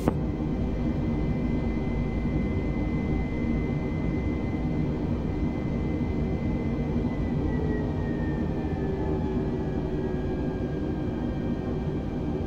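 An Airbus airliner takes off from Kochi Ryoma Airport on runway 14, a loud, steady jet-engine roar with deep rumble holding throughout, no voices.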